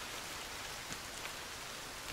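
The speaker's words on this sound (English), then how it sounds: "Of course it wants to rain now" Steady rain in the survival game The Forest, a continuous soft hiss of drops with a couple of faint brighter ticks, even and unbroken throughout with no talking.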